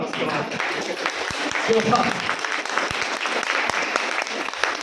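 An audience at a leadership seminar claps steadily, a sparse spread of individual claps under a continuous hall murmur with a voice speaking now and then.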